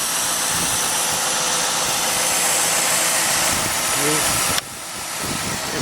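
A car engine idles with a steady, loud whirring hiss during a bad alternator check, while a voice speaks briefly over it near the end.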